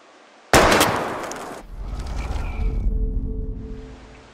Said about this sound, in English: We're gonna shoot all these bottles without wasting a single bullet.